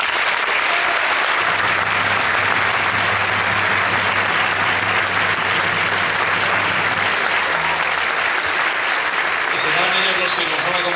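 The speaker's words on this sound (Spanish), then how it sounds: "les pido un aplauso para los bailadores que nos van a acompañar" Sustained, loud audience applause greets folk dancers from a traditional Zamora association, a thick continuous wash of clapping with low musical or vocal tones beneath it partway through.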